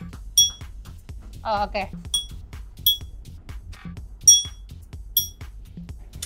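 Drinking glass struck in a series of bright, ringing clinks spaced about once a second, close and clear, with a brief spoken word in the middle.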